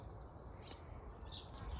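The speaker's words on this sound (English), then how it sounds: "I can hear the birds" Small birds chirp and twitter in an English cottage garden, high thin calls repeating across a soft outdoor hush, fairly faint and with no voices.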